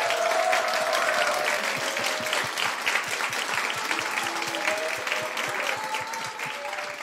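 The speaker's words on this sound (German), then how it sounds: "Das ist an dieser Stelle auf jeden Fall nochmal ein Applaus wert." An audience applauds steadily throughout a live science slam in the Zeiss large planetarium, with dense, sustained clapping that fades slightly toward the end.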